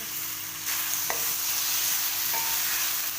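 Boiled, peeled potatoes gently frying over low heat in a pan while being stirred, a soft steady sizzle broken by a few faint scraping taps of the spoon, with no voices.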